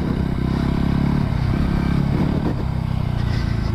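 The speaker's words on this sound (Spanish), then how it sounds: "es que la moto va muy bien" A Voge 300 Rally motorcycle rides off-road, its engine a steady, loud low drone with some clatter from the terrain, holding fairly even throughout with no talk.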